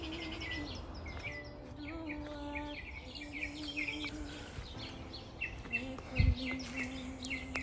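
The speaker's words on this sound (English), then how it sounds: "The birds are having a field day." Birds chirp and tweet outdoors on a mild, overcast morning, with many overlapping high calls and trills at moderate distance and a low background hum underneath.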